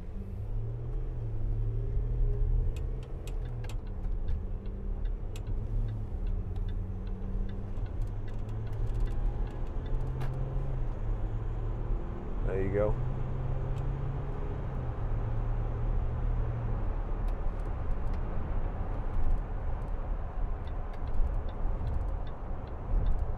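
Land Rover Discovery 4 with a 3.0 SDV6 diesel engine, heard from inside while driving: a steady low cabin drone with shifting engine tones and soft road rumble throughout, plus faint ticking clicks, no talking.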